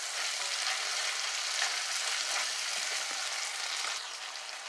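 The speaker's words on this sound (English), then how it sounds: "Enter in a pot, stir like a soup with a mix." Deboned saltfish stirred in a pot for Jamaican cooking, heard as a continuous dense hiss of frying with a few soft scrapes, steady and close throughout, no voices.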